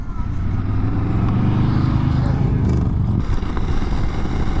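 A 2021 Honda CRF300L Rally ABS motorcycle rides along a gravel road, its engine droning loudly and steadily throughout with low rumble and loose clatter, no talk.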